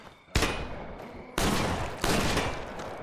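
Gunshots from State of Decay, fired at zombies, come as three loud, sharp bursts with brief gaps between them, close and dominant.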